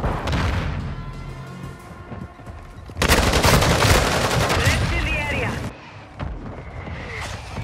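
Grenade blast and gunfire in the shooter game Call of Duty: Modern Warfare 2, a loud sustained crackle of shots and a booming explosion midway, with voices calling out in the mix.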